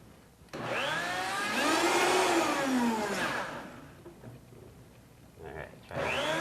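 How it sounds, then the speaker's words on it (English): A kitchen blender whirs loudly for about three seconds while blending a Cinco de Mayo recipe, its motor pitch rising and then winding down, followed by quieter clatter and a brief burst of motor noise near the end. "I think we're ready to blend"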